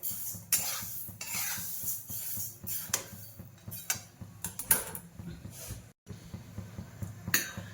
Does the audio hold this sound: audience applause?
no